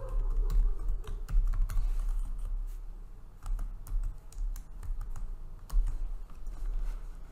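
Computer keyboard keys clatter in quick, uneven bursts while a URL is typed into a WordPress settings field, with close, crisp clicks and short pauses between runs.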